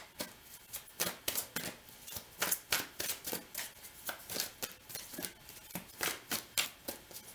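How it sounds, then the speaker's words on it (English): Tarot cards being shuffled by hand, a steady run of crisp riffling snaps repeating roughly twice per second, close and clear with no talking. "I'm going to keep shuffling, Sag."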